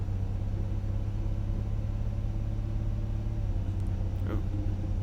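DB BR 642 diesel railcar under full throttle in Train Sim World 5, a heavy, steady low rumble with a constant throbbing drone, loud and close, uninterrupted, with a faint brief higher sound near the end.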